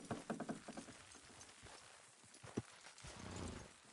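Horses in a Red Dead Redemption 2 game scene step along with soft clip-clopping hooves and shuffling, moderately close, while quiet background sounds continue.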